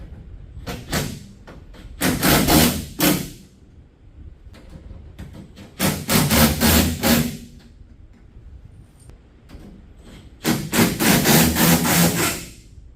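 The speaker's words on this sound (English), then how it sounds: "We'll start putting these clamps in place, which hold the rails to the side." Clamps that hold tonneau cover rails are fitted onto a pickup truck bed, heard as three bursts of harsh scraping and clattering metal, each lasting a second or more, separated by quieter handling noises, close by with no talking.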